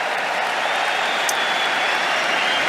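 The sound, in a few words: stadium crowd applauding during a Mexican wave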